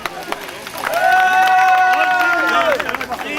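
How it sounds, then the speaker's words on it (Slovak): A crowd at a hobby autocross event in Krupina claps and cheers in a sustained burst of applause, loud and close, while a tonal car or announcement sound rises above the clapping. "A ešte jeden veľký potlesk."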